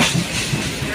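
Inside a moving Tamil Nadu train, a steady rumble of the carriage and faint clickety-clack of the wheels run on without pause for a short moment.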